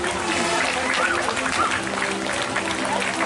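An audience at a school building opening ceremony applauds steadily, a continuous crowd of clapping hands with a voice speaking over it.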